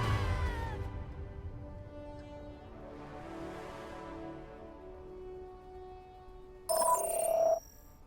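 A phone message notification sounds briefly near the end, a short bright tonal chime over quieter background sound from an Overwatch game.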